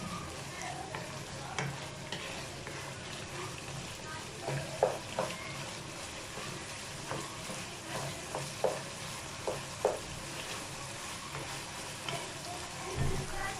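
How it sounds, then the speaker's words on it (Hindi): Chicken keema frying over high heat, a soft continuous sizzle with scattered spatula scrapes and taps as the mince is stirred. "अब हम तेज़ आंच करेंगे, थोड़ी सी भूनेंगे इसे।"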